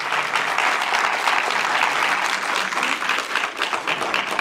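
Sustained applause from a cinema audience in Nîmes welcoming the film director Stéphanie Pillonca, a dense, steady clapping that stays loud and even throughout without pause.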